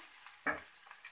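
Egg fried rice masala stirred in a pan: a single brief spoon scrape stands out against a faint continuous sizzle.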